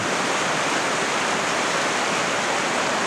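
The East Fork Quinault River in Olympic National Park rushes steadily and close by, a dense, unbroken roar of flowing water with no voices.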